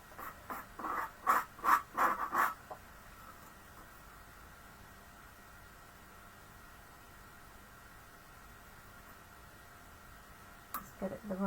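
Scissors snip through stamped paper rose flowers die-cut shapes in a quick run of about six crisp, close cuts, followed by a long quiet stretch and a brief rustle of paper at the end.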